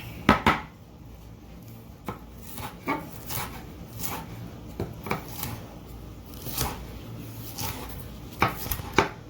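Green peppers being chopped with a knife on a board, a string of crisp irregular cuts and clacks close up, some bunched in quick bursts, no talking.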